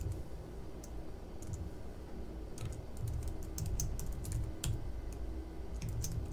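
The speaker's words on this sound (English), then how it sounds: "finish up this line that you're typing" Rapid, steady typing of code on a computer keyboard, with close, light clicks and occasional sharper keystrokes over a low background hum.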